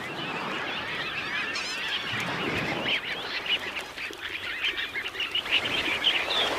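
A dense chorus of shore birds calling on a beach where horseshoe crabs gather, overlapping honking and squawking cries over steady background wash.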